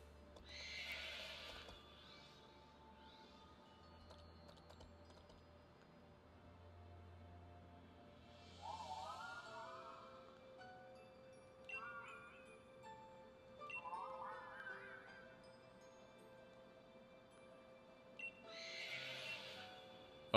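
Several video game horse whinnies from an icy war pony rise and fall over a low steady hum and quiet game ambience, with gaps of near silence between calls.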